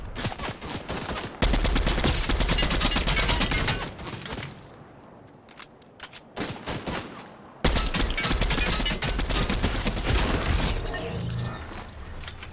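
Heavy gunfire in the video game Fortnite, with loud sustained bursts of shots and shattering impacts, a brief lull of scattered single shots midway, then dense firing resuming.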